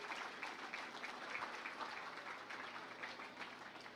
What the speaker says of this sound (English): I want you to give every one of these young people a great big round of applause for their work here in this drive